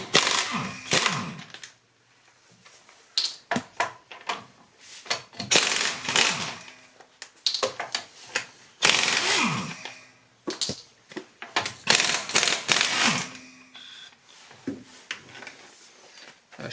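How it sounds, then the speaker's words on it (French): A ratchet with a 19 mm socket works the wheel nuts on a 2004 Renault Twingo, giving bursts of rapid metallic clicking and clattering, separated by short pauses, loud and close. "Donc on va commencer par démonter la roue. Donc il faut une douille de 19 et puis voilà, c'est parti."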